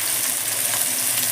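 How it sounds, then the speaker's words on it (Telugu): Onions frying in a pan, a close, loud, steady hiss of sizzling oil that stays even throughout the short stretch, with no talk. "ఓకే, మంచిగా వేయించుకుందాం."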